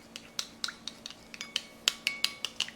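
A metal spoon stirs a sesame-oil salad dressing for a mango vegetable salad, clinking sharply and repeatedly against the bowl in a quick, uneven rhythm, close up and with no talking.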